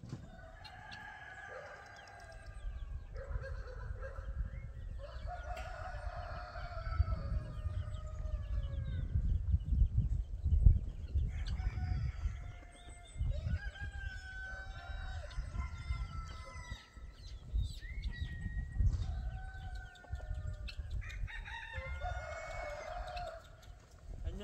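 Chickens on a homestead cluck and a rooster crows repeatedly, calls overlapping at moderate distance over a low rumbling background, with no clear talk.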